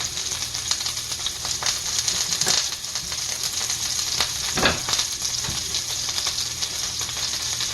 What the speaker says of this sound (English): the oil is nice and hot, so I'm going to start putting in my onions